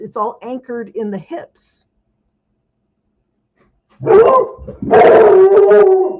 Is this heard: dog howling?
yes